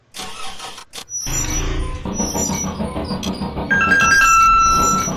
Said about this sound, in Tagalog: Start na ulit natin tong jeep natin.